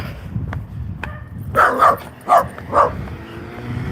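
An Australian Shepherd barks four times in quick pairs, fairly close, against a steady outdoor background hum with a few faint clicks before the barks.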